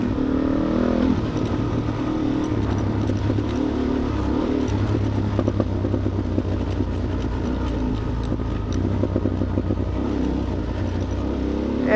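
Motorcycle rolling downhill on engine braking, its loud aftermarket exhaust crackling and popping continuously over a steady low rumble, close and dominant throughout with no talking.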